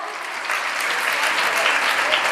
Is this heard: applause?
yes